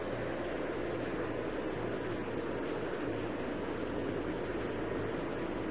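A FedEx aircraft is on final approach at Memphis in a flight sim video game. Its engines make a steady, continuous low roar that hums evenly throughout with no talking.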